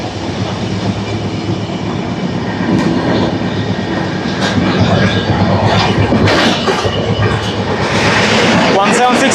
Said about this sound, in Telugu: కాకతీయ ఎక్స్ప్రెస్ని మనం ఓవర్టేక్ చేస్తున్నాం భువనగిరి రైల్వే స్టేషన్లో